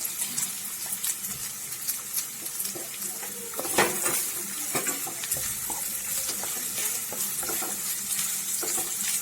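Chopped onions, green chilies, ginger and garlic stir-fried in oil for chicken pidi peralan, a steady close sizzle with scraping and clinking of the spatula against the pan, no voices.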